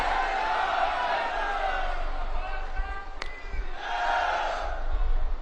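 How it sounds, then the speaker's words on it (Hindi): At an outdoor political election rally in Jhajjar, a large crowd chants and cheers Jai Shri Ram, a swelling mass of voices that rises, dips briefly, then surges again, heard from amid the gathering. "एक बार जोरदार तालियों से बाबा जी को जय श्री राम करना है।"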